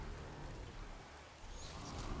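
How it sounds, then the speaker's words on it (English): The Freezing Rain spell in the strategy game BFME1 (The Battle for Middle-earth, patch 2.22) makes a continuous rain wash with faint thunder-like rumbles, steady and moderately quiet, with no speech. "we have Freezing Rain available now"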